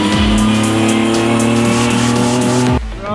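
A rally car on new tyres being scrubbed in drives hard and loud throughout, its engine note rising and falling through gear changes, with tyre noise before the revs drop sharply near the end.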